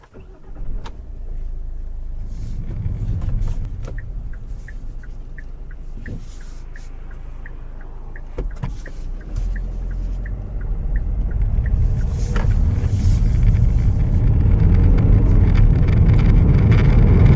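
A 2016 Kia Optima Platinum, fourth generation, with an automatic gearbox drives on a test run, its steady low cabin rumble and road noise growing louder and fuller toward the end, with no talking.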